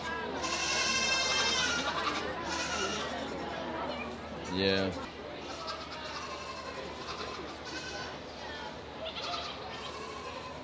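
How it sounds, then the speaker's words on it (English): Goats bleat at a show ring amid steady crowd chatter, with one clear, close bleat rising above the murmur of people talking nearby. "Our goats being difficult."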